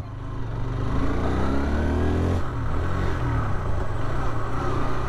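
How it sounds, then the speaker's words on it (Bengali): Hero Xtreme 160R 4V motorcycle exhaust while riding: a steady mid-pitched engine drone with rising rev sweeps, a brief shift dip midway, then a continued pull, loud and close with no talking. "এক্সস্টের সাউন্ড খুব সুন্দর আছে"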